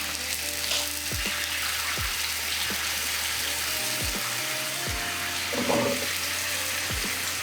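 Scallops frying in butter with garlic and lemon juice give a steady, close sizzle, broken by a few dull low knocks from the pan.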